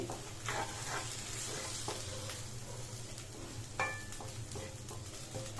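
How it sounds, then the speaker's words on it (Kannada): Egg bhurji sizzles steadily in a pan while a spatula stirs it, with close, repeated scraping strokes and clinks of metal over the continuous frying hiss, and no voices. "ಸ್ಪ್ರಿಂಕಲ್ ಮಾಡಿಕೊಂಡು ನೀಟಾಗಿ ಮಿಕ್ಸ್ ಮಾಡ್ಕೊಳ್ಳಿ."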